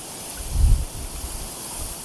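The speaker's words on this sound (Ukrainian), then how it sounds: "Блін, чий такий вітер." Wind buffets the microphone in a continuous roar while fishing in a storm, with a stronger low gust swelling briefly and then settling back into steady rushing noise.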